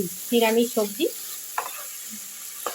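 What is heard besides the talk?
okra and potato curry sizzling while stirred in pan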